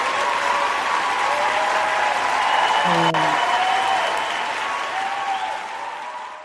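A round of applause from an interview audience, dense steady clapping that holds throughout and tapers slightly at the end, with a brief voice breaking in near the middle.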